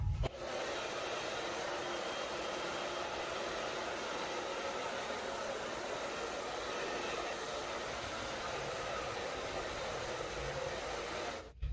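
A blow dryer runs on curly hair styled with sea moss gel, a steady loud whooshing roar from start to finish, close and unbroken before clicking off at the end.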